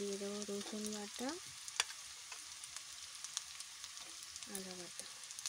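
Garlic paste sizzles with fried onions in a pan while cooking a home-style chicken dish, a steady hissing fry with a voice talking at the start and end.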